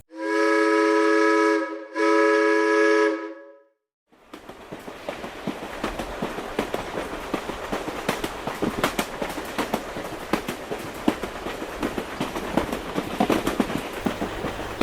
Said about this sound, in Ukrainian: Тож уявіть себе пасажирами електропоїзду, і ми вирушаємо.